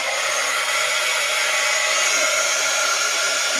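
Heat embossing tool blowing hot air in a steady, close whoosh for the full span, a constant fan-like hiss with no talk over it.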